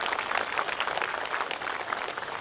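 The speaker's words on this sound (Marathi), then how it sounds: "जरा जोरदार टाळ्या होऊ द्या." Applause from an audience at a Bhim Jayanti 2024 gathering, a steady dense patter of many hands clapping together, fairly faint and distant, with no voices over it.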